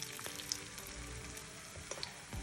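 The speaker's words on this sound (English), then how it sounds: "But you just love the sound of that sizzling." Onion fritters sizzle and crackle in a frying pan, a faint continuous hiss dotted with small pops, heard up close with no talk.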